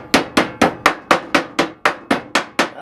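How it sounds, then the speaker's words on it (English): Eleven sharp, evenly spaced taps with a flat piece of wood in a steady rhythm, close and crisp, each a quick knock seating a metal paint can lid. "I use a flat piece of wood just to put the lid on."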